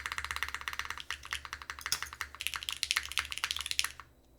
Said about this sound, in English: The lower, more rounded sound profile for the spacebar here.